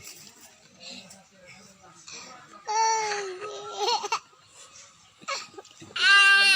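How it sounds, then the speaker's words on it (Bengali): A goat bleats a couple of times nearby, wavering calls amid scattered voices and light background chatter. "লঙ্গিত পাড়া দিয়ে ছাগল আটকায় আছে"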